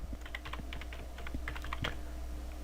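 Quick, irregular keystrokes on a computer keyboard while searching for updates in Windows, close and fairly quiet, with a slightly louder cluster near the end and no talking.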